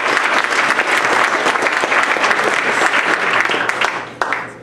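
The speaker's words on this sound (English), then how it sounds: "But so let's give Arcata High School just a round of applause for that." Loud, sustained applause from a meeting audience for Arcata High School, a dense crowd of clapping hands that holds steady before tapering off at the end.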